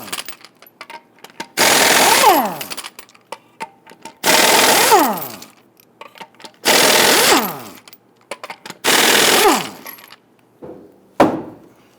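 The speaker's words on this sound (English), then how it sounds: "Using a 21mm socket, loosen and remove the lug nuts." An impact wrench with a 21mm socket spinning off lug nuts on a 2000-2006 Toyota Tundra rear wheel, four loud whirring bursts of about a second each plus a short fifth, with small clinks between.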